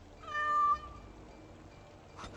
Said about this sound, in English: The Warden Commander gave Anders a kitten as a gift.